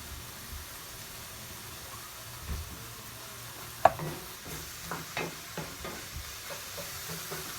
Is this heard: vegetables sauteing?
yes